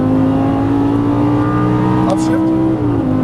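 A Lamborghini Gallardo LP550 engine pulling hard under throttle on a track, a steady rising drone from inside the car, with an instructor talking over it.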